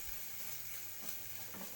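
Spices fry in a pan as the base for a dry prawn fry, giving a steady, close hiss and sizzle with faint stirring scrapes and no talk.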